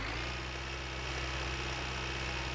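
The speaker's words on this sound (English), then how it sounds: "Going to PSK in the tractor is a bad idea" Steady tractor engine in the video game My Winter Car, a constant low droning idle with a humming, vibrating tone that stays level and unbroken throughout.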